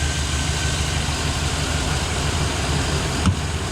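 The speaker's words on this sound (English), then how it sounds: "now the engine is settling down" A car engine idles with a steady, low rumble during a vibration diagnostic at a mechanic's, droning evenly throughout with a brief louder bump near the end.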